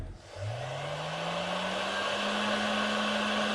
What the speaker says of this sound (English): So let's now put the heat gun on and see what our voltage does.